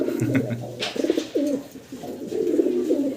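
Large pigeons at a pigeon farm in Gopalganj coo in low, repeated throaty phrases close by, with faint background farm noise and no talking.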